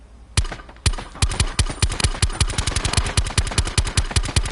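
A suppressed gun in Call of Duty Black Ops 4 fires from the hip in a long rapid automatic burst, evenly spaced sharp shots close up, each with a short tail.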